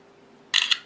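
A smartphone camera shutter fires once, a short crisp click with a brief trailing second tick after near-silence.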